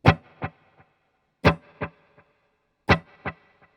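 A plucked electric guitar note repeats three times, each followed by quieter echoed repeats that decay quickly, with a spacious delay tail and no talking.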